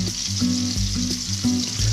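Onions and garlic sizzling in a pan while pasta sauce for farfalle with swordfish is started, a loud, dense, continuous frying hiss heard close up with a few low stirring bumps and no talking.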